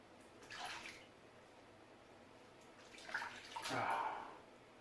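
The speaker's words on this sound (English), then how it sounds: "Let me rinse this out." Water rinses out shaving lather gear in two separate gushes, a short splash followed by a longer, fuller pour, close by and moderately loud against a quiet background.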